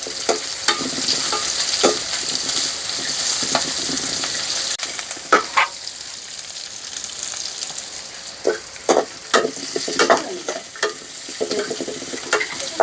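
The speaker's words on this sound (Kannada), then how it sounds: "ಈರುಳ್ಳಿ ಬೊಕ್ಕ ಕೆಲವು ಬೆಳ್ಳುಳ್ಳಿ ಬೇಸೊಪ್ಪು ಕೆಲವು ಚಕ್ಕೆ ಮಸಾಲೆದ ಫಸ್ಟ್ ಫ್ರೈ ಮಾಡ್ಕೊಡೋದೆ" Onion, garlic, curry leaves and cinnamon frying as a base for mutton sukka, a loud continuous sizzle with frequent clacks and scrapes of a stirring spoon against the pan.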